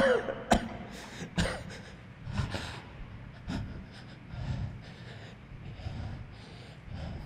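Several rough coughs and throat-clearing sounds, close and fairly loud, spaced out between heavy breaths.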